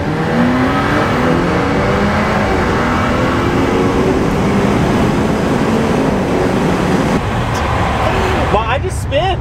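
A tuned BMW F30 launches hard under launch control, its engine roaring loudly and continuously at close range with dense road and tire noise and no pauses.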